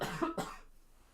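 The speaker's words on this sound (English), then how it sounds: "I do apologize for the coughing." A person coughs twice in quick succession, close and fairly loud, with a short fading tail and no talking.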